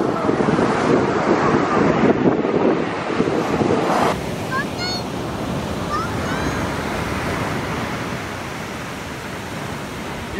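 Ocean surf rushes and breaks loudly up close, with wind buffeting the microphone; a brief voice and faint whistle-like chirps appear midway.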